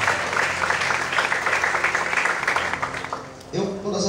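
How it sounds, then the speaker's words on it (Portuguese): Church congregation applauding during a worship service, a dense wash of clapping over steady background sound and voices for about three and a half seconds before it fades and a tonal sound takes over. "Você pode desocupar sua mão e aplaudir ao Senhor"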